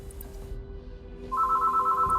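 A phone rings loudly and steadily in a room, its electronic tone cutting in about halfway through and continuing to the end over a low background hum.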